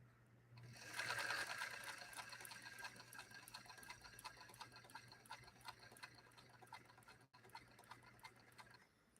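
A Featherweight sewing machine stitches through protected full grain leather in a quiet room, its fast, even rattling needle run going on nearly without pause, clearest just after starting and then settling into a steady, moderate hum.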